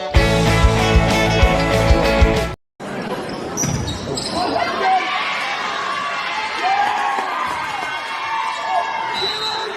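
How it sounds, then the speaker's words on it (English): Crowd noise swells through a gym during a girls volleyball quarterfinal between Westerly and West Warwick, with a roar and scattered shouts after a brief loud stretch of music that cuts off. "You hear the roar of the crowd"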